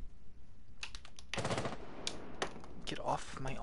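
Gunfire rattles in Rainbow Six Siege: quick bursts of rapid shots, with clusters near the middle and again at the end. Players' voices can be heard faintly between the shots.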